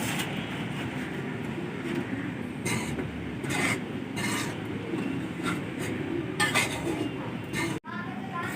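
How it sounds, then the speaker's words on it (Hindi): Wheat flour roasting in a pan for flaxseed (alsi) pinni, heard as a steady, close scraping and rubbing texture as it is stirred, continuing throughout with a brief break near the end. "इन्नी देर च असीं आटा भुन लैंदे हां।"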